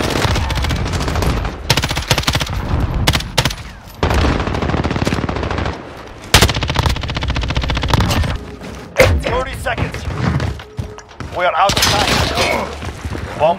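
Bursts of rapid automatic gunfire ring out in a shooter video game, with sharp rattling volleys and single cracks broken by short gaps, while players talk between and over the shots.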